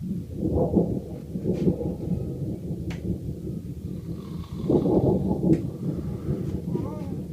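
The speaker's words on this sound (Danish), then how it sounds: "Den nat var der et forfærdeligt tordenvejr." Rolling thunder from a severe night thunderstorm rumbles low and heavy in two long swells, fading between them, with no talk over it.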